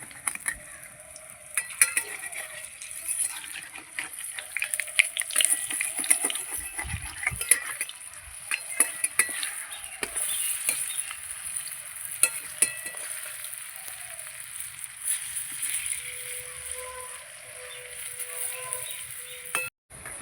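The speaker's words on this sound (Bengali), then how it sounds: "তেল আমার গরম হয়ে গেছে, বড়াগুলো ভেজে নেব।" Small pea lentil fritters sizzle and crackle in hot oil in a home kitchen, a continuous close frying hiss with occasional stirring clicks and no talking.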